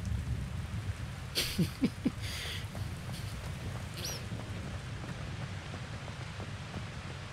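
Steady rain hisses throughout in a Hogwarts Legacy game scene, with a few brief louder bursts near the start and a faint distant rumble; no one speaks.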